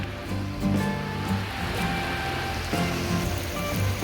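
Rain falls steadily at a creek, a continuous hiss of drops on water and surfaces with the rushing flow underneath, fairly close and even throughout, with no talking.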